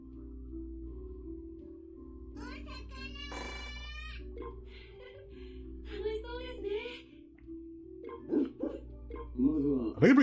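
A dog barks at an aquarium, several sharp yips and barks scattered through the middle over a low steady hum, with people talking nearby and growing louder toward the end.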